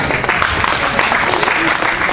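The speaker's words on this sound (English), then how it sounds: "your applause will be greatly appreciated" A live audience at a handcuff escape magic show claps loudly and continuously, a close, dense burst of applause with a few voices showing through.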